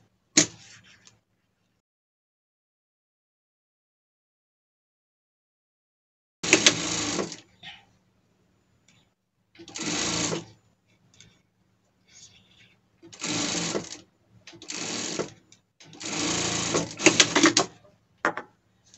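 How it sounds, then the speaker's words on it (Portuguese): A sewing machine topstitches a safety seam on a fabric cap for a costume, running in several short, fairly loud bursts separated by pauses and handling noise. "E a gente vai pespontar e passar uma costura de segurança ali"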